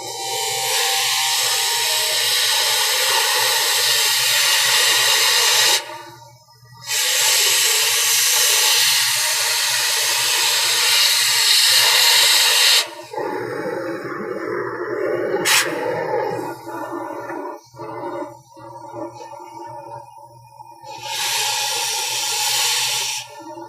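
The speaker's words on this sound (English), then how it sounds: "basically I'm going to cut this weld right here" An oxy-fuel cutting torch with a scarfing tip cuts through a weld, giving a loud, roaring hiss in long sustained blasts that stop and restart, with quieter sputtering and clanks between them.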